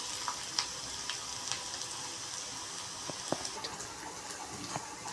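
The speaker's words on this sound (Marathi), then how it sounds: "आता आपण कांदा चांगला ब्राऊन होऊन देऊ" Onion frying in a pan until browned, a steady close hiss and sizzle with scattered small crackles and pops, no talking.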